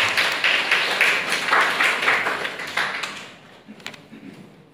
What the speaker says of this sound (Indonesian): Cukup aplaus buat narasumber 2